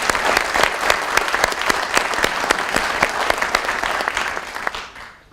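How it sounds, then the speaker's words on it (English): An audience at a police department awards ceremony claps in a dense, steady round of applause that runs loud for several seconds, then tapers off at the end. "let's give him a round of applause"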